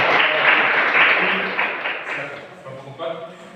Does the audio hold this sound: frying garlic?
no